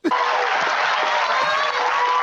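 A theatre audience claps and cheers loudly and continuously, a dense wash of applause that starts abruptly and holds steady throughout.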